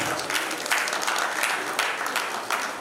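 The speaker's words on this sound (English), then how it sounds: "And a round of applause for all that ask the questions too." An audience applauds at a town planners' conference in Nigeria, a dense, continuous round of clapping from a crowd, even and moderately loud for about three seconds with no talk over it.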